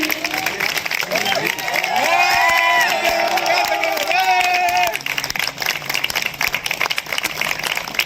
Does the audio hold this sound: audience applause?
yes